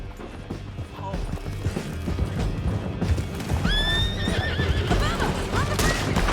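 Horses neigh and whinny in Red Dead Redemption 2, with hooves clip-clopping steadily beneath a busy game soundtrack; several loud, rising whinnies ring out in the second half over continuous galloping and background action.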